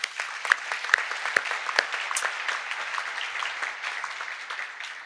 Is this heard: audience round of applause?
yes